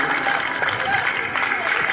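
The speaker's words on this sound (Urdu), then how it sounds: "تھوڑا سا تالیاں بجا دیجئے" An audience at an all-India mushaira in Mau claps in a dense, steady patter of applause, mixed with voices talking.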